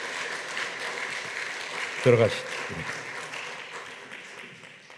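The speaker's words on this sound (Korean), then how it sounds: "다시 한번 박수해 주세요." A congregation applauds during a Sunday church service, with clapping mixed under a voice as he speaks.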